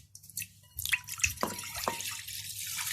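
Half a liter of water is poured into a bowl for Moroccan melwi dough, heard as a quiet trickle with a few scattered drips and splashes close by.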